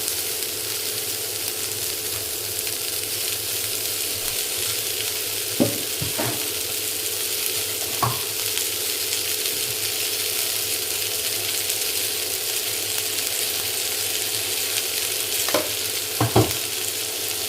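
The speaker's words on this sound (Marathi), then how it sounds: "आणि आता हे पुन्हा एकदा परतून घेऊया।" Chopped vegetables with tomato and salt sauté in a pan, a continuous close frying hiss with occasional scraping clicks from the spatula as they are stirred, no voices.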